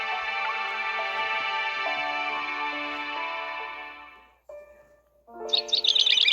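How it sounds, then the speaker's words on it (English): Birds chirping with long, tonal calls, then a pause before a burst of quick, bright tweets close by, in the game Love and Deepspace. "I hear birds chirping"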